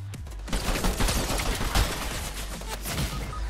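Rapid, dense gunfire in a Fortnite match, a continuous loud fusillade of overlapping shots lasting a few seconds.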